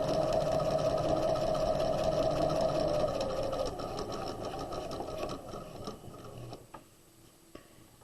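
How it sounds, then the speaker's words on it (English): A sewing machine stitches tote bag lining in a steady, close, fast-running mechanical whir that gradually slows and fades, ending with a few isolated clicks. "We're going to sew about 3 inches in."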